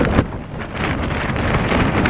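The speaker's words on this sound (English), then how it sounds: "Still blowing a hoolie." Strong gusting wind at a wild campsite on Carnedd Llewelyn in Snowdonia roars and buffets the microphone continuously and loudly throughout.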